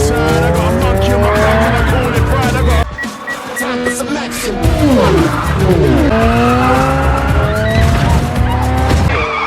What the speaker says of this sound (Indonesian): Shaw segera memacu mobilnya yang langsung dikejar Brixton dan anak buahnya.